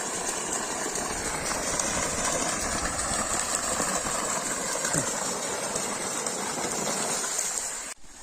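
A 5 HP solar water pump forcing out a strong, steady gush of water, a loud continuous broadband rush with a low engine-like rumble beneath, unbroken until it cuts off abruptly near the end.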